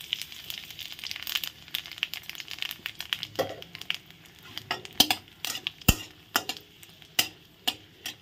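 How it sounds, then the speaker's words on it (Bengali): Dried red chillies and nigella seeds frying in hot oil, a soft sizzle broken by sharp clinks and scrapes of a spoon stirring in the pan, close and uneven. "তেলের মধ্যে আমি প্রথমে দিয়ে দেব শুকনো লঙ্কা আর কালো জিরে"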